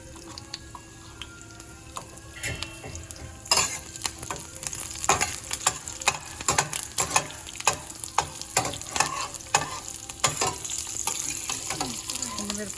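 Red and green chillies frying in oil in a pan for mint pachadi, a soft continuous sizzle broken by sharp clicks and scrapes of stirring that grow busier partway through, close and with no talk.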